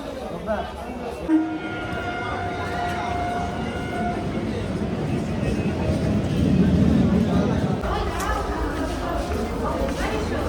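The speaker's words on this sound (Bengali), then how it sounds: "আমাদের ট্রেন আসছে ফাইনালি" A train arrives at a station, its low rumble building steadily beneath continuous crowd chatter and nearby voices on a busy platform.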